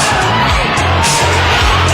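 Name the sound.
football stadium crowd rising and cheering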